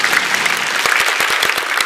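A small group claps in quick, irregular bursts of applause, close and loud, lasting just under two seconds.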